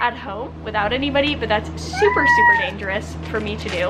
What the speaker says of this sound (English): And that was just the cat, by the way, that just jumped across.